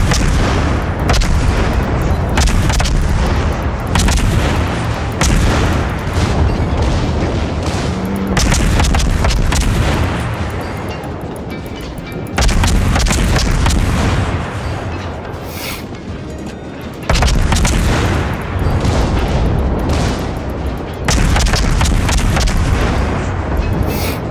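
Warship guns in the World of Warships video game fire in heavy, continuous booming salvos, loud and dense, with short lulls between barrages.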